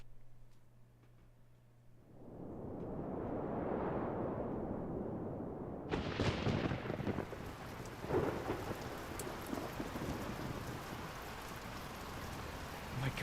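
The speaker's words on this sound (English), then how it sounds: "Oh my god, it's actually thundering in real life too." Real thunder rumbles outside during a livestream, a long rolling peal that swells and then breaks into a louder crack with sustained rumbling, heard alone with no talk.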